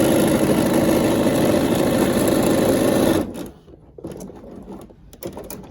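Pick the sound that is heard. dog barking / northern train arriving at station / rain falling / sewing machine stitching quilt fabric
sewing machine stitching quilt fabric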